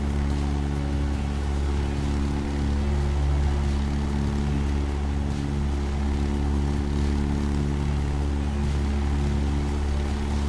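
Propeller aircraft droning in flight in Microsoft Flight Simulator on a bush trip toward Monument Valley, a loud, steady engine hum with strong low tones and no change throughout, no voices.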